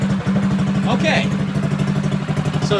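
A drift trike engine idles with a steady low, throbbing chug close by, pulsing evenly throughout while someone talks over it.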